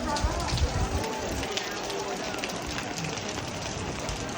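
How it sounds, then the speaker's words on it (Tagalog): Rain falls steadily on a street in Jonker Street, Malacca, after three days of wet weather. The patter is constant and moderately loud, with faint crowd murmur in the background. "It's been raining here for like 3 days already."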